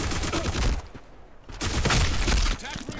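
AK12 gunfire in the shooter game Black Squad, rapid bursts of close, loud shots in two clusters separated by a brief pause.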